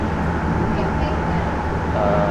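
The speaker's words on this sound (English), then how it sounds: "I'm on the train now" Inside a moving Seattle light rail train, a steady rumbling ride noise carries on, loud and close, with a continuous low drone throughout.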